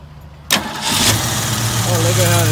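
A classic Mercury Cougar XR7 with a 302 V8 cranks briefly and catches, then settles into a smooth, steady idle close by, with people talking over it.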